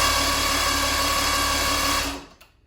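A Mercury outboard engine cranks over steadily with a whirring mechanical drone during a compression test, close and loud, then stops abruptly just after two seconds, leaving near silence.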